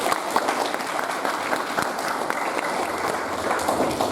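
An audience in a school multimedia lab bursts into sustained applause, many hands clapping loudly and densely throughout, with a few voices mixed in.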